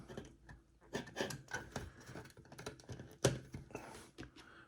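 Plastic housing of a Hasbro proton wand being pried open, giving a run of close, quiet scraping, rubbing and clicking sounds in irregular bursts with one sharper snap near the end.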